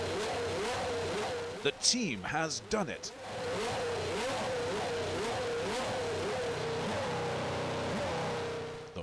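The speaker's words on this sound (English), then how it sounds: "the engine starts." A car engine catches and revs at high altitude on the Khardung La pass in India, a loud droning roar rising and falling under excited talk, with a few sharp bursts early on.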